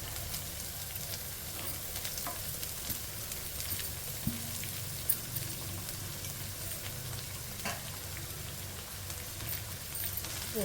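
Carrot and green chilli fry in a pan with an even, rain-like sizzle that stays steady throughout, with a few soft knocks and clicks from the cookware.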